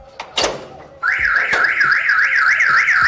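A security alarm device bursts into a loud warbling electronic siren that rises and falls in quick regular sweeps, preceded by a few clicks and knocks.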